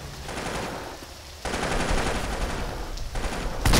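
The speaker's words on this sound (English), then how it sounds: "the M16 sounds sweet" Bursts of M16 rifle gunfire from a multiplayer video game crackle almost without pause, loud and close, with a short gap before a heavier final volley.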